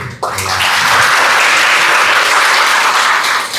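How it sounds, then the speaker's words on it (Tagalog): A large crowd at a worship gathering bursts into loud, sustained applause after a brief pause, a dense, even roar of clapping that holds strong to the end. "At mas malakas na palakpak para kay Lord."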